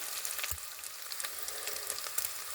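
Bacon frying with butter and garlic in a pan, a steady, fairly quiet sizzle with scattered pops and crackles.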